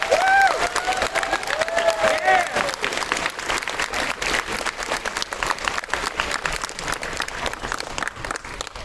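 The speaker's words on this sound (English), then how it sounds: "Please give them the biggest round of applause you can." Convention crowd at an opening ceremony applauds its volunteers, a loud, sustained burst of many hands clapping with some cheering and whistles mixed in, fading slightly toward the end.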